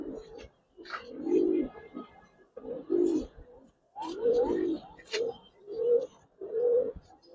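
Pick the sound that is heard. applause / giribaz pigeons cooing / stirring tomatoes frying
giribaz pigeons cooing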